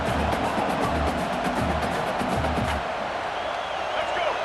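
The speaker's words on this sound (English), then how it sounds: "the crowd really making some noise now" A dense, steady roar of stadium crowd noise in the video game EA Sports College Football 26, loud and continuous, with faint broadband cheering and no clear talk.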